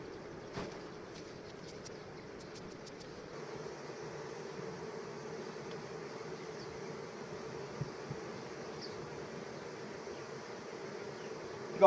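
Honeybees buzz around a beehive at an apiary, a steady, faint, even drone running throughout with a few soft clicks and no talk.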